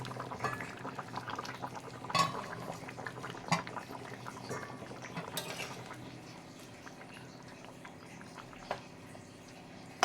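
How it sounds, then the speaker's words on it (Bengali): Potatoes simmering in fish curry in a pot, the lid lifted, give a soft continuous bubbling with occasional clinks and scrapes of a spoon against the vessel, close and fairly quiet. "আলুগুলো সেদ্ধ হয়ে আসছে"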